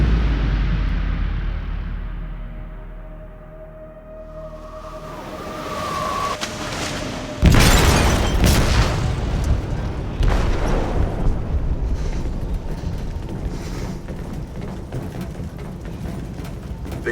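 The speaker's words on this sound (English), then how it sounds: "They detonated an explosive in the hold." An explosive detonates in a ship's hold in the Detroit: Become Human video game: a low rumbling swell builds, then a sudden loud, deep blast, followed by sustained roaring, crashing debris and rushing water.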